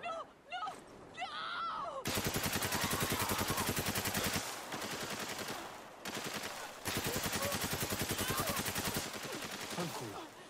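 Sustained automatic gunfire from the video game Spec Ops: The Line, loud and close, rattling in long continuous bursts with brief gaps, after a few seconds of quieter game sounds and voices at the start.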